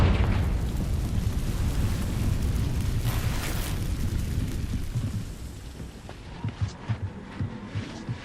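A Confringo blasting spell erupts in Hogwarts Legacy as a long, roaring explosion with rumbling, rain-like debris that tapers off, followed by a few scattered thuds.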